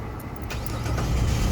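The 3.7 L engine of a 2005–2009 Jeep Liberty with a no-crank, no-start fault turns over, a brief loud low churning that builds steadily over a second and a half, close by, with no voices.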